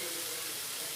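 Water poured into a pot of mushroom and potato curry, a brief, loud, continuous rushing splash with no talking.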